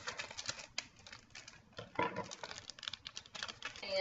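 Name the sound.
tearing open adhesive magnetic sheets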